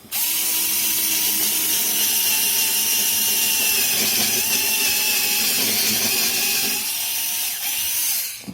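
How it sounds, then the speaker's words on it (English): A Xiaomi Mijia rechargeable cordless screwdriver drills with a continuous high whine and mechanical buzz, running at steady speed with a brief dip near the end. "It can drill holes"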